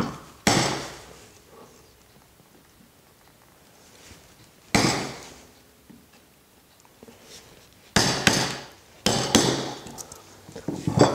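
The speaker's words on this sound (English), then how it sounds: "So this is what's called a Japanese barrel hammer." A steel Japanese barrel hammer drives a woodworking chisel into wood in a few sharp, separate strikes spaced seconds apart, with quiet pauses between them and a quicker pair of blows at the end.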